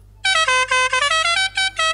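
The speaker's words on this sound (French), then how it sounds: "ainsi qu'un klaxon" A car horn added to Santa's sleigh honks in a rapid series of loud, bright, tonal beeps of varying length, close and with no talk.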